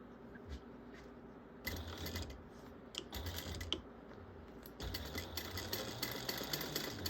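A sewing machine stitches around a bag 1/8 inch from the edge, its quiet rapid needle clatter running in bursts separated by brief pauses, close up and fairly soft.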